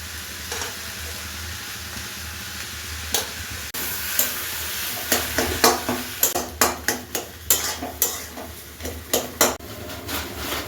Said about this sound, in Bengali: এরপর আমি যে ডিমগুলোকে ঝুড়ি ঝুড়ি করে ভেজে রেখেছিলাম এগুলো দিয়ে এর মধ্যে ভালোভাবে এখন মিশিয়ে নেব।